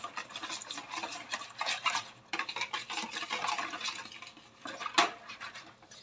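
Quiche dough ingredients being mixed in a bowl, a steady wet scraping and stirring that runs continuously with varying intensity, close and moderately loud, with one sharper knock near the end and no talking.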